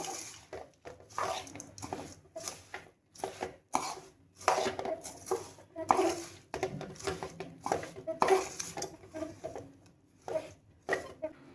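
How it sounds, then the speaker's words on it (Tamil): Puffed rice coated in white sugar syrup is stirred briskly in a pot for a sweet snack, giving soft rhythmic scraping and rustling strokes close by, with no talking. "வெள்ளைப்பாகு எல்லா பொரியிலையும் கோட் ஆகிற மாதிரி நல்லா கிளறி கொடுத்துக்கிடணும்."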